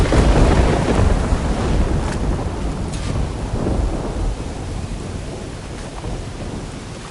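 Steady heavy rain with rumbling thunder in an Assassin's Creed II game scene, a continuous loud downpour with low rolls of thunder and no talk.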